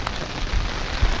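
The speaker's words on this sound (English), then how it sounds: "it's safe to say it's raining" Heavy rain hammers down outdoors near a house with guttering, a dense, continuous roar of drops on surfaces with a few heavier splats close by.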